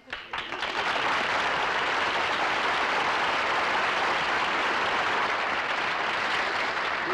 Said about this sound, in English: he gets applause without the sign